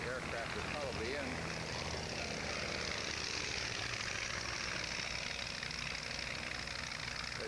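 Propeller aircraft engines droning steadily at a 1990 Montana air show on a Saturday morning, with planes giving rides; a continuous loud hum fills the whole stretch, with faint voices mixed underneath.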